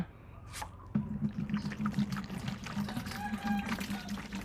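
About 1.5 litres of plain water poured into a compost mix, a continuous close trickle and splash with soft dripping that runs through the whole stretch.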